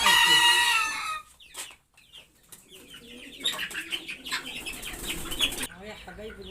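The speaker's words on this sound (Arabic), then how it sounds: "ادي الفراخ اهي هطلعها بقى معاكم ايه ان شاء الله فوق في الاوضه" Chickens being moved indoors to an upstairs room of an apartment, with clucks and soft calls and a brief burst of wing flapping, close by with some rustling around them.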